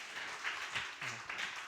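A church congregation applauds a brother at a Sunday service, giving a short, faint, steady patter of many hands clapping together.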